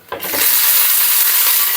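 Green chilies drop into urad dal already frying in a pan, setting off a loud, steady sizzle that begins with a brief clatter and then hisses evenly, with no talk.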